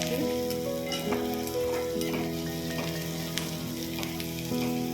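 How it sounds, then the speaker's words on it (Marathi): Onion fries with chillies, turmeric and garlic for a bitter gourd dish, giving a constant close sizzle with occasional stirring clacks, and faint tonal sounds run underneath. "नंतर आता आपण त्यामध्ये कांदा ॲड करूयात तर बघा थोडा कांदा लाल द्यायचा"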